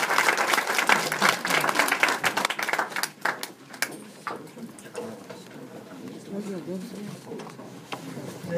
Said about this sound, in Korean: 강사님께 큰 감사의 박수 부탁드립니다